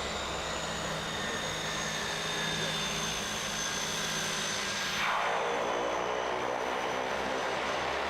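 Fixed-wing aircraft landing directly on glacier ice at Denali, its steady engine drone loud and close, with a whooshing pass and engine whine falling off near the end.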